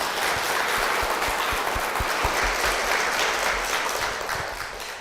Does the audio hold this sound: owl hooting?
no